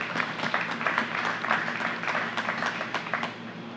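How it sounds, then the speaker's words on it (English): A round of applause for contractors and workers at a project event, steady clapping from a gathered crowd that holds at an even level for the whole stretch. "Would you join me in giving them a round of applause?"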